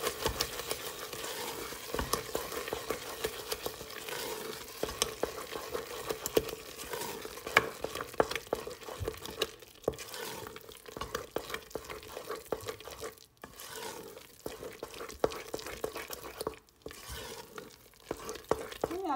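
Sweet potato bread batter with egg and cherries is stirred by hand in a bowl, a soft continuous scraping and sloshing with irregular thumps, close and fairly quiet, with no talking.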